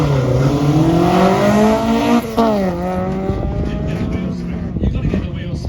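A rally car driven by Sam Bullen accelerates with wheel spin while running down a hill at the Salon Privé Classic & Supercar 2022 event, its engine note climbing and shifting loudly and close, with a voice talking over it.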